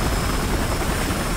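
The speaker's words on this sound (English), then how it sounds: "Helicopter." Helicopter in the Battlefield Hardline game, flown low over water in a swampy Everglades map, gives a steady, loud broadband rotor and engine roar that holds evenly throughout without a break.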